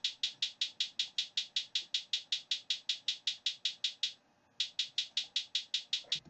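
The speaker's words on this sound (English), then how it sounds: "these are called halftime hats, and they're called that because they pretty much are like a halftime hat," Lower-pitched halftime hi-hat sample in an FL Studio beat, a fast, even run of bright ticking hits that pauses briefly, then resumes in the same rhythm, alone and fairly quiet.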